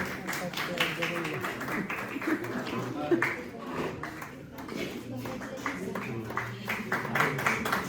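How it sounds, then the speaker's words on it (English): An audience claps for a teacher in charge at a school prize-giving. The applause runs as a busy, uneven patter of hands, with voices talking over and between the claps. "applause"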